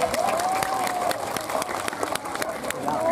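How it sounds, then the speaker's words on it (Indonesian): Audience applause at an Islamic religious lecture gathering in Tegal, Central Java, steady clapping across the whole stretch with a voice faintly carrying over it. "tepuk tangan dulu dong"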